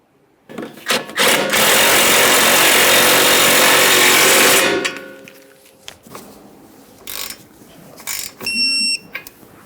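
A power ratchet snugs a 17mm mounting nut onto a Ford Fusion's front upper control arm, with a sustained loud whirring burst of several seconds, then short mechanical clicks and clatter.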